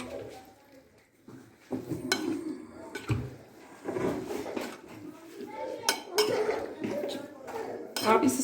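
A spoon mixes macaroni salad with salt and chaat masala in a bowl, making irregular clinks and scrapes against the dish at close range, with a faint voice in the background.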